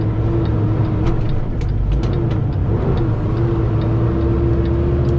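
A car engine pulls steadily in third gear while climbing a steep hill in the mountains of North Carolina and Tennessee, a continuous close hum with a sustained tone running under the whole stretch.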